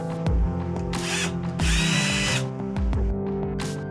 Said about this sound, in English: Drill holes in the bottom of 1 bucket